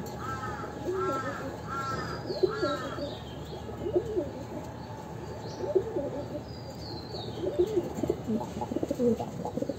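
Pigeons recently collected by a keeper coo in low, repeated throaty calls, near and moderately loud, while crows caw intermittently in the background throughout.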